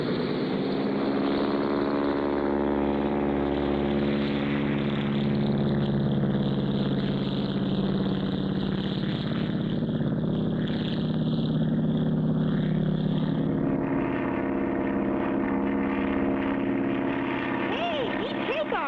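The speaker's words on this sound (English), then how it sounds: "neat takeoff, Clutch" A cartoon bush plane taking off, its propeller engine droning loud and steady throughout with shifting pitch, while voices talk over it.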